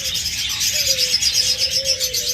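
A pair of Fischer's lovebirds calling among other caged birds, a dense chatter of high chirps with a few thin sustained whistle-like notes running through it, steady and fairly close.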